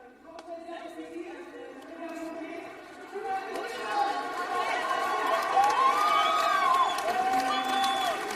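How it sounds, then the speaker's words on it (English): A home crowd cheers at a women's EuroLeague basketball quarter-final, a steady roar of voices filling a large arena and swelling through the second half, with a commentator talking over it. "I'm sure that the home crowd appreciated that from Gabby Williams."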